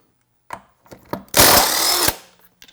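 Power tool spinning off the rear wheel lug nuts of a Jeep Wrangler JL Unlimited with a 22 mm socket: a few short taps and clicks, then one loud, sustained close-up burst of high whirring that cuts off sharply, with no talk.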